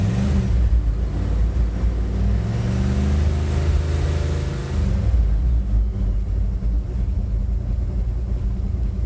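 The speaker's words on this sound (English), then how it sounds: "If I put it in park or neutral and give it a rev" A car engine revs in park or neutral, a vehicle with low oil pressure after an oil pump replacement, giving a steady deep rumble that swells and then eases back after about five seconds, with no talking.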